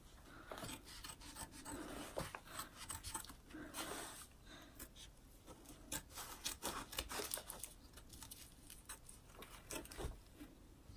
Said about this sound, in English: I'm going to take my applique scissors once again, and I'm just going to cut all the way around this nose